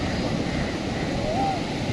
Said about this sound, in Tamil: அந்த வேவ்ஸ் பாருங்கள் எப்படி மாறிடுச்சுன்னு